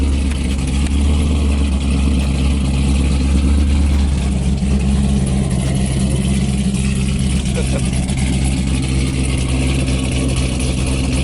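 Car engine with a BTR stage 4 cam idling loud and close, a deep, continuous lumpy rumble holding steady with little change in level.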